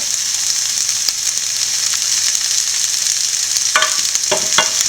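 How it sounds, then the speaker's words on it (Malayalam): Sliced onions frying in hot oil with salt for an egg puff filling, a loud steady hiss of sizzling, with a few scraping stirs near the end and nobody talking. "നല്ലപോലെ സവോള വഴന്ന് കിട്ടണം അതുവരെ നന്നായിട്ട് ഇളക്കിക്കൊണ്ടിരിക്കുക"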